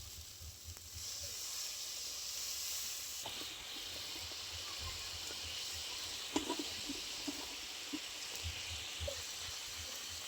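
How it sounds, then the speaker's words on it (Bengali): Fish pieces simmer in a watery mustard and cumin curry, giving a faint, steady hiss with a few soft pops and crackles. "কিছুক্ষণ ফুটিয়ে মাছগুলো দিয়ে দিচ্ছি।"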